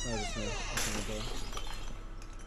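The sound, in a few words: glass shattering in video game Fear Therapy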